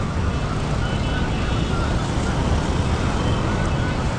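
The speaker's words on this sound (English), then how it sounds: "That's how traffic is flowing." City road traffic streams steadily past the Kampala flyover near a hardware area, a constant loud wash of engine and tyre noise with no breaks, heard close by.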